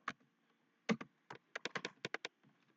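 Code being typed on a computer keyboard, quiet, close key clicks in short bursts, a few isolated taps and then a quick run of strokes, with no speech.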